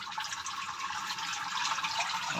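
Water rushing steadily through a pipe into a homemade DIY filter, carrying out dirt from inside the pipe; a continuous close hiss and splash throughout, with no talking.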